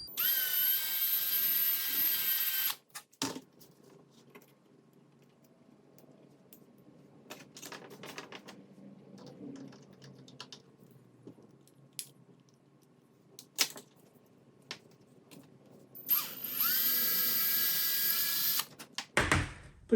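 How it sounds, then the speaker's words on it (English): A power drill drilling pilot holes in wood for a Pedersoli screw-barrel derringer kit whines in two loud bursts at the start and end, separated by quieter handling and tapping noises. "First I drill pallet holes here so it won't split the wood."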